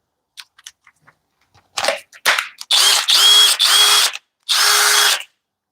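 A cordless drill in drill mode at speed 2 whirs in three close, loud bursts after a few clicks and handling sounds, with a short pause before the final run.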